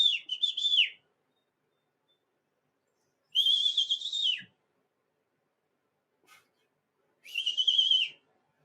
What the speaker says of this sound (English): The crow's back.